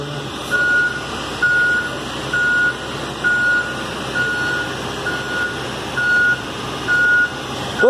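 A school bus backing up sounds its reversing alarm, a clear steady series of eight evenly spaced electronic beeps over a low idling engine rumble, loud and close.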